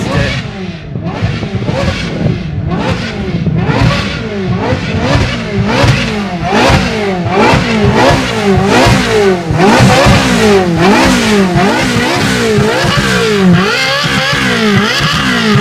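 Sports cars, among them a Porsche, a BMW M4 and a Ferrari, accelerate and rev hard one after another at a car meet in Szczytno, with loud repeated rising engine pitches sweeping by close.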